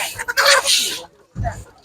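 Chickens cluck in short bursts at an outdoor animal market in September, close by, with people talking nearby between the calls.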